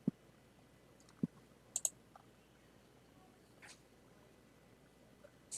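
A computer mouse gives a few sparse, quiet clicks, single and in a quick pair, over a faint steady room hum, with no talking.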